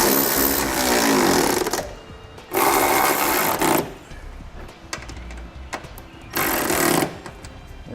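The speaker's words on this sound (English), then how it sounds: "go ahead and tighten everything down. We're going to be using an 11/16 socket." A power tool with an 11/16 socket tightens trailer hitch bolts on a 2017 Hyundai Tucson, giving three loud, buzzing bursts of rapid impact rattling separated by short quieter gaps of clanking.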